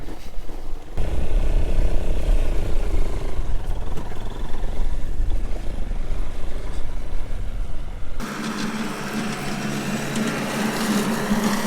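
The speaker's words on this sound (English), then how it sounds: "I was going to grab the tractor and go do some topping, but it looks like Dad's beating me to it." A farm tractor topping thistles in a weedy paddock, a steady low engine drone with mower rumble, close and continuous, easing after a shift to a lighter, steadier hum.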